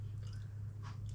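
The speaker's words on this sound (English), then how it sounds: "it gives you a really lovely crunch with the softness, the sponginess" Someone chewing bread with a crunchy crust and a soft, spongy crumb, close and quiet, a few crisp bites and munches over a low steady hum.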